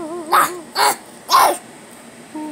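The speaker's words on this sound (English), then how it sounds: "Ooh, look at the puppy dog." A puppy giving three short, sharp yaps in quick succession, close by, with a quiet background and no talking.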